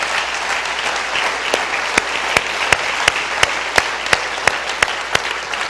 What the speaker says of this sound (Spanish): Apláudale, si le va a aplaudir, apláudale, porque Él merece ser aplaudido.